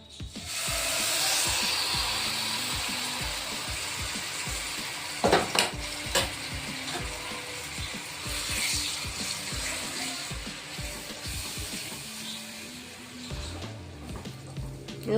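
A banana and coconut mixture fries in ghee in a pan, giving a steady, close sizzle and hiss with scraping stir strokes and a couple of sharper clinks partway through, with no voices.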